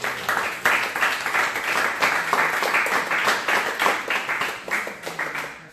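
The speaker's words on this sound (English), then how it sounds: "let's give our panel another round of applause" An audience applauds a panel at a health insurance and HIV Q&A session, sustained rhythmic clapping from many hands, steady and fairly close, fading slightly toward the end.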